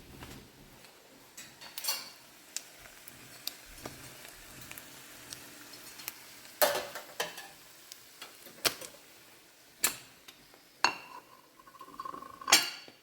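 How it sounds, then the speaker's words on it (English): Plates and silverware handled in a home kitchen after frying crispy eggs, with the stove just turned off: scattered sharp clinks and clatters over a quiet background, with no voices. "we're going to get our plate and silverware ready"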